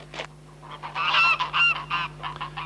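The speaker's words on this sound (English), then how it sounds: "Fine flocks of geese and a pet of a gander feeding out of a pot are rare sights nowadays anywhere in rural Ireland." A flock of geese on a farm in rural Ireland honks loudly and close by in overlapping, rising calls, with short bursts gathering into a dense chorus.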